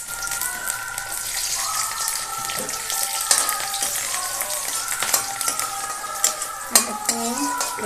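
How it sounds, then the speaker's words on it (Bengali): Garlic sizzles in hot oil in a pan, a close hiss punctuated by clinks and scrapes of a metal utensil stirring against the pan, with a few louder knocks near the end. "রসুন ভাজা হয়ে গেছে"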